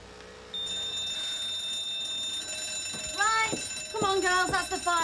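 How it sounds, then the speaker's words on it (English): A fire alarm bell rings steadily indoors, a continuous high metallic tone that persists throughout, while people speak over it near the end. "that's the fire alarm."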